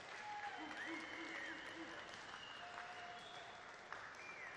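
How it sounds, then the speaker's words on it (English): Applause for the Texas Tyrants, a bronze-medal team at a volleyball championship awards ceremony in Las Vegas, sounds as faint, distant, steady clapping from a crowd, with some high whistles above it. "How about a round of applause for the Texas Tyrants?"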